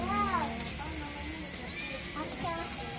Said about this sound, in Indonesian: Ngapa lagi banyak kucing sih?